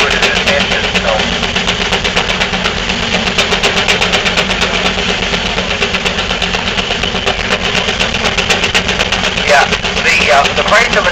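A coal-fired steam engine powering an Avery threshing machine runs steadily and loudly throughout, a continuous mechanical chugging and rattle with a rapid repetitive beat, with voices audible beneath the machinery.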